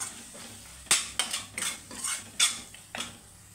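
A spoon stirs spices for tomato rice in a metal pan, giving a handful of sharp clinks and scrapes spaced irregularly, close and fairly quiet.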